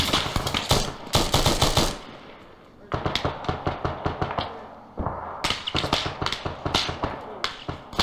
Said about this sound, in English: I heard a 50 cal just go off.